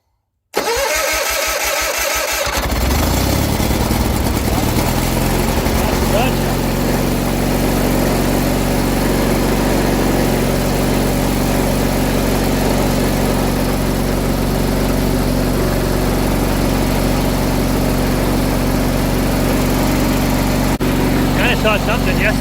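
An old Honda Fourtrax ATV, about forty years old, cranks for a couple of seconds before its engine catches and settles into a loud, steady idle that runs close by for the rest of the clip.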